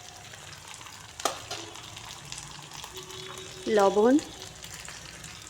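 Radish and giant freshwater prawns are stir-fried with turmeric and chili powder in a pan, giving a continuous soft sizzle under a woman's brief spoken word and a short clatter.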